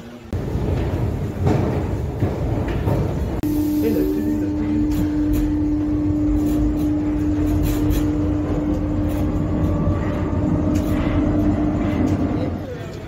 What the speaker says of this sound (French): on se retrouve bah, dans le métro tout simplement